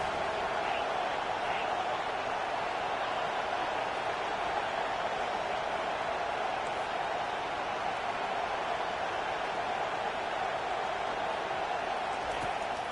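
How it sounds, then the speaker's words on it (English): A steady, dense crowd roar fills a stadium during an American football game, a continuous broadband wash of voices holding at an even level from start to finish with no distinct claps or breaks. "The roar of the crowd trying to fuel this defense to keep them pinned in their own end."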